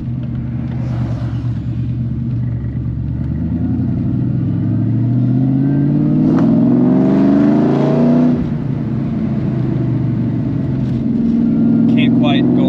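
A 2003 Ford Mustang Cobra with a Magnum manual transmission rumbles steadily while driving slowly, its low engine note rising and falling with throttle and shifting; loud and close, under occasional speech.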